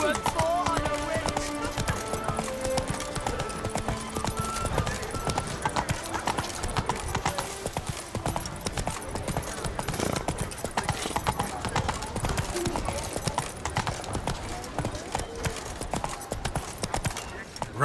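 The horse Roach from The Witcher 3 galloping, a steady fast clip-clop of hooves that runs on without a break, with game music and a voice speaking over it.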